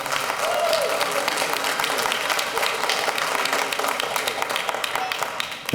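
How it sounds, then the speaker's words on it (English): Audience applause fills a city council chamber, a dense, sustained clapping from a sizable crowd that holds steady for several seconds before tapering slightly near the end. "I know there's a lot of emotion in the room, if you could please hold your applause to the very end"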